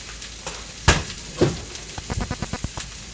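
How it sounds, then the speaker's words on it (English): Cabbage sizzling and caramelizing in a hot pan for ramen topping, a soft continuous fry hiss broken by a few sharp pops and then a quick series of clicking spatters near the end, no talking. "I am actually getting caramelization on the cabbage"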